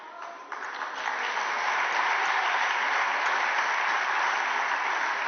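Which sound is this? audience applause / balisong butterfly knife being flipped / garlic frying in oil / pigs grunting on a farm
audience applause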